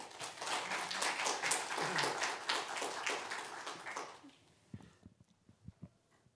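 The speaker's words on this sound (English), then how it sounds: "please give a round of applause" A conference audience claps in a dense burst of applause for about four seconds, then it thins to a few scattered claps that fade out.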